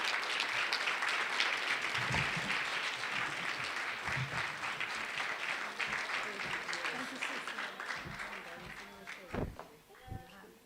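An audience at a government Women's Month launch in KwaZulu-Natal applauds a minister coming on stage: steady, dense clapping from a large crowd that tapers off near the end, with a few louder knocks.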